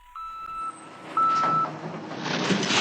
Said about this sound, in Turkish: Vit sesi çıkaran kamyonu bekletiyorum.